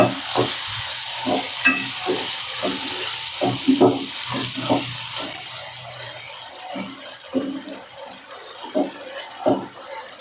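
Potatoes for a Kerala-style stir-fry (mezhukkupuratti) sizzle in oil in a pan as a spoon stirs them, with regular scraping strokes over a steady hiss, close by and without talk.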